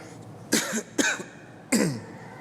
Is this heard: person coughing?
yes